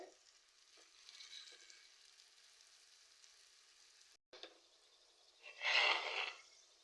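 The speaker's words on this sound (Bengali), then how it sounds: "এই চপগুলো ভাজা হয়ে গেছে আমি এবার তুলে নিচ্ছি" Flour chops deep-frying in hot oil at home, a faint steady sizzle that swells into a brief louder burst of bubbling near the end, heard alone without speech.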